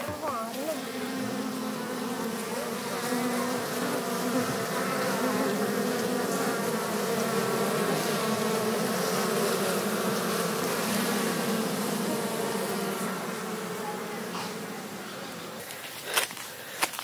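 Wild honey bees swarm and buzz around their hive during a honey harvest, a dense, steady droning hum that fills the whole stretch without pause, close and continuous with no talk over it.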